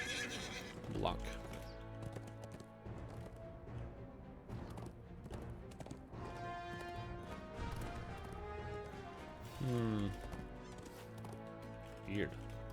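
A horse in Dungeons & Dragons Online whinnies several times, rising and falling, over a steady clip-clop of hooves among other game sounds.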